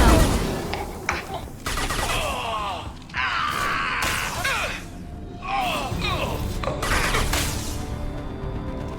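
Dense bursts of gunfire from a firefight in the video game Mass Effect 2, loud and continuous with short gaps, mixed with shouting voices and battle noise.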